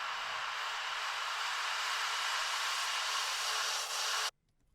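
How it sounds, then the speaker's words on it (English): White noise effect in a trance track, a loud, steady, bright hissing wash that holds for about four seconds and then cuts off abruptly into near silence. "white noise effects."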